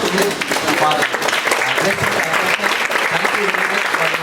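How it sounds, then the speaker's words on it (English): Audience applause fills a hall at an MBA induction day programme, a steady, dense wash of many hands clapping for about four seconds at a constant loud level with no gaps. "Give a big round of applause to him"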